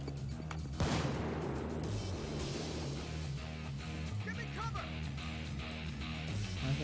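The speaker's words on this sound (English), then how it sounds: "Flashbang." A flashbang grenade bursts in the game Payday 2: one sharp, fairly faint blast about a second in, then a scatter of gunfire-like cracks and background game noise.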